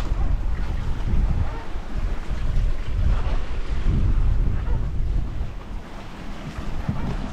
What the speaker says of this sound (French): On dirait que le vent baisse.